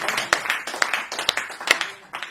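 An audience at a studio poetry session claps to welcome the poet, a short burst of scattered, sharp hand claps close by, loose and uneven rather than a full roar.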